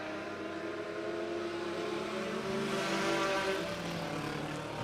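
Dirt track race cars roar together at Crawford County Speedway during a heat race, a steady dense engine drone that swells slightly toward the middle and stays loud throughout, with no voices.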